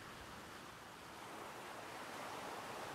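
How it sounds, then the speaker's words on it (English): Gentle beach waves wash in on a calm night after a typhoon, a soft, steady broadband surf hiss that stays faint and even throughout with no distinct breaks and no voices. "We could hear the gentle beach waves through the calm"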